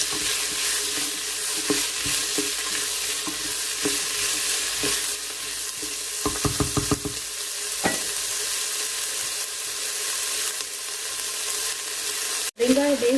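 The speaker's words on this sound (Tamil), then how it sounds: "வெங்காயம் கொஞ்சம் வதங்கும் அளவு விட்டுருவோம்." Onions sauté in a pot for Sri Lankan style mutton gravy, a steady close sizzle with intermittent stirring and scraping clicks, a brief burst of clattering midway.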